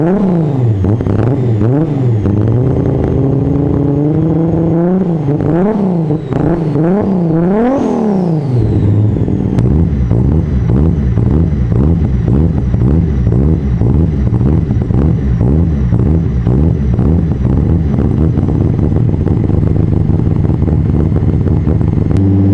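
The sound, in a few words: Toyota Supra MKIV engine with cams revving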